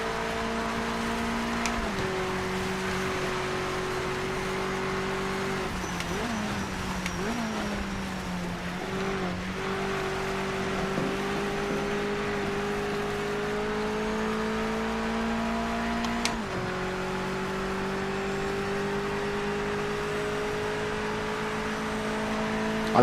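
Mazda MX-5 race cars drone around the Nordschleife in a racing video game, a steady engine note that rises and falls through gear shifts and revs over a sustained whir.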